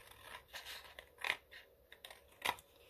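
Scissors snip through paper while cutting out printed Christmas ephemera pieces for a handmade journal, a few quiet crisp cuts spread over a few seconds with soft handling noise between them.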